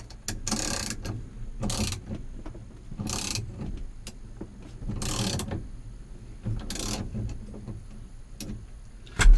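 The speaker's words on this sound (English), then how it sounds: "you can just use a 3/8 ratchet this thing down, and it'll pull the steering wheel right off" A 3/8 ratchet turns a steering wheel puller on a car, producing several bursts of rapid clicking, close and fairly loud, separated by short pauses.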